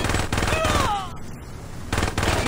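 Loud, rapid automatic gunfire fills the Saints Row video game, with dense overlapping bursts, a brief thinner lull, and then the shooting resumes at full intensity.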